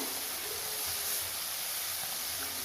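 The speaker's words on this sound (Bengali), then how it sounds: "এবারে এই তেলের মধ্যে আমি মাছগুলোকে দিয়ে দেব" Small chuno fish frying in hot mustard oil in a pan, a dense steady sizzle and hiss that stays loud and even throughout with no talking.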